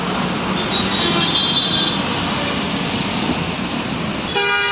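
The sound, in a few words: city road traffic in Chennai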